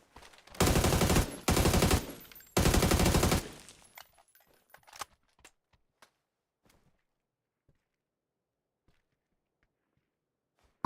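Rapid automatic gunfire in the PUBG video game: three loud sustained bursts in the first few seconds, then a few faint scattered shots and near silence.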